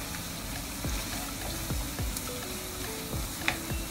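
Lasagne filling with thyme stirred in a pan, steady close sizzling with repeated scraping strokes of a spoon and occasional light clicks against the pan.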